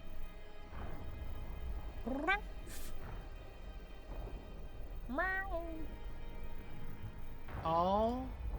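A male cat meows three times with rising, drawn-out cries spaced a few seconds apart, heard close over faint background noise and soft talking.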